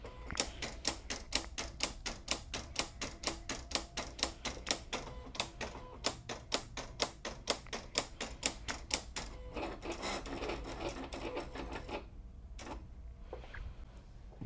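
A Silhouette CAMEO cutting machine doing a test cut on heat transfer vinyl, a quiet rapid series of regular mechanical clicks and taps that gives way to softer whirring and a few isolated knocks.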